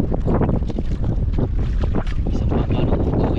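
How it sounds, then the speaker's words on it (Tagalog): A steady, loud roar of strong wind and engine-like rumble on a fishing boat out at sea, continuous throughout with gusting microphone buffeting and no clear talk. "Lakas ang hangin."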